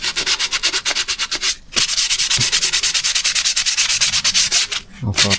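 Steady rhythmic sanding strokes of 1200-grit sandpaper on a Porsche Boxster M96 engine component, close and fairly loud, continuous back-and-forth rasping with two brief pauses.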